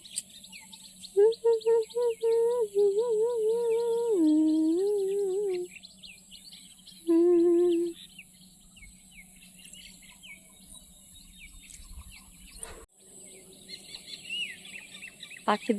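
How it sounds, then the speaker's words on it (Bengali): Several kinds of birds call and sing in the morning outdoors, with clear repeated whistled phrases in bursts over a steady background hum and faint distant chirps. "দেখো সকাল সকাল কত রকমের পাখিদের কলরব পাখিদের ডাক"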